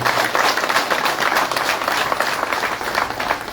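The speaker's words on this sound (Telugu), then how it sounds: "మీ అందరి పక్షాన, నా పక్షాన మీ గట్టిగా చప్పట్లతో దయానంద్ రెడ్డి గారికి" Steady applause from a seated crowd honouring Dayanand Reddy at a government junior college desk-donation event, dense continuous clapping held at an even level throughout.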